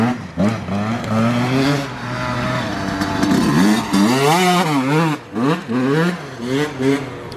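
A TM motorcycle roars past during a dirt race, its engine revving up and down through several gear changes, loud and close, with throttle blips and a brief dip as it goes by.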